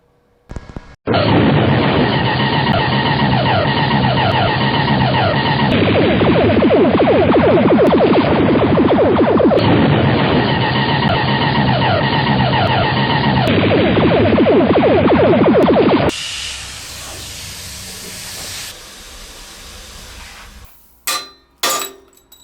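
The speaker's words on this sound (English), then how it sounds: "I hardly ever get to use my plasma cutter, but I'm gonna get to use it today." A plasma cutter slices through steel in a home garage, a loud, steady hissing roar that runs unbroken for about fifteen seconds and then drops away to quieter clatter and a few short bursts.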